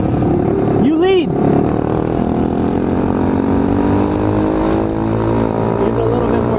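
An Apollo RFZ Chinese dirt bike rides along with its engine droning steadily near and loud, rising and falling in pitch as it revs, and a voice talks over it briefly.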